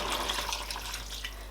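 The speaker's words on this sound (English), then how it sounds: "So I'm going to add 1 cup of water in this pot" A cup of water poured into a cooking pot while Nigerian egusi soup with spinach simmers, giving a steady splashing, gurgling pour close to the mic with a low background hum and no talk.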